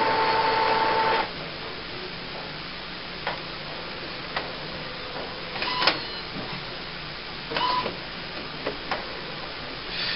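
An Epson DX9400F printer initialising after CISS ink cartridges have been installed: a steady whirring mechanical drone with an opening tone, then scattered clicks and short bursts of carriage movement, close and fairly quiet.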